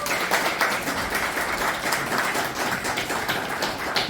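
Steady, dense applause from an audience welcomes a speaker to the stage at a gathering in Daegu. The clapping holds at an even level throughout with no talk over it.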